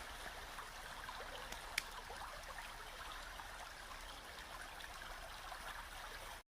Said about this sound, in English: the gentle sounds of the river running alongside them